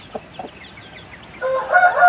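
Bangkok chickens in a backyard collection give a few short clucks, then a loud, sustained crow rises and fills the last second or so, close to the listener.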